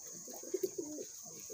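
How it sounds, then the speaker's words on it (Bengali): Teddy pigeons from an imported bloodline cooing in a breeding loft, a few low, soft coos in quick succession over a faint steady hiss, with no talking. "ভিউয়ার্স এই যে নিচে আর এক পেয়ার কবুতর দেখেন, এটি রানিং পেয়ার"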